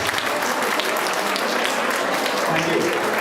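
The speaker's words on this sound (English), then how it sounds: "Please clap with both the hands." Students applaud after a guest is honoured with a sapling at a campus event, a sustained wash of many hands clapping, fairly loud and even throughout.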